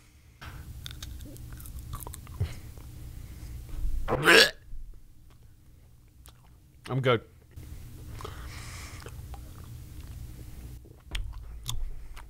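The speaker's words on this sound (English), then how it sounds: "I'm eating the paper too." Paper being chewed and eaten by a person, with crunchy bursts of mouth noise and a hiccup-like gulp between stretches of close talking.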